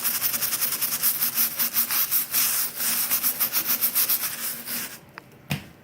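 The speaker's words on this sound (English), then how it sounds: "back down here where I'm scrubbing it," A brush scrubs tile grout with Black Diamond grout cleaner in rapid, steady back-and-forth strokes, close and loud, before the scrubbing breaks off near the end with a couple of brief knocks.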